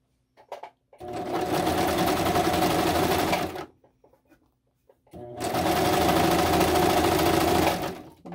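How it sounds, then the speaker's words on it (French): Sewing machine stitching the first underarm seam of a knit pyjama sleeve, in two loud steady runs of a few seconds each, separated by a short pause. "On est prête pour coudre le premier dessous de manche."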